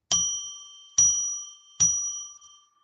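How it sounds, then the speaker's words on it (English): A bell struck three times at even intervals, each a clear bright ding that rings out and slowly decays before the next strike, alone in silence. "I'm going to ring a bell 3 times now"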